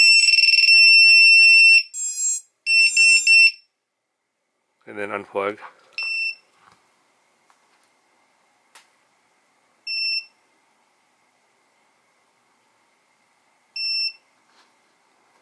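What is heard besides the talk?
VIFLY Finder lost drone alarm beeping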